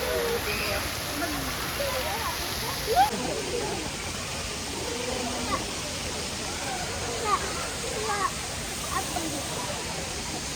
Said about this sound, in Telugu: ఇంకా లేక్ మిడిల్లో అట్లా వాటర్ ఫాల్ పెట్టారు.